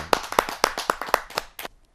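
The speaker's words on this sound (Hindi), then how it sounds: "जोरदार ताली के साथ।" A small audience at a Hindi poetry gathering claps for a poet: sharp, fairly close claps in a quick, uneven burst of about eight, thinning out and stopping.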